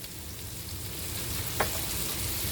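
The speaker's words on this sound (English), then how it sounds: "So what I'm going to do now is stir in that garlic." Garlic sizzles steadily in a pan with frying pork steaks, a continuous close hiss with a brief scrape of stirring partway through.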